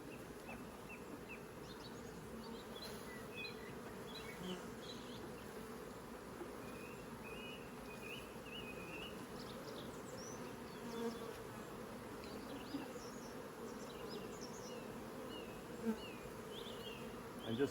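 A steady, dense buzz of many honey bees swarming around a nuc box during a transfer to a hive, continuous and fairly close, with faint bird chirps in the background.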